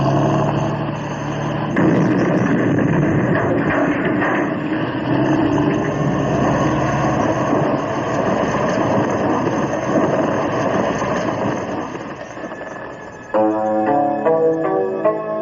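Aircraft engine drone, a steady, loud propeller-like hum with rough mid tones, ending in a brief shift to a brighter tonal passage.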